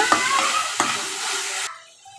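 Ripe tomatoes sauté with ginger-garlic in a pan, a close, loud sizzle broken by two sharp stirring scrapes before it cuts off abruptly.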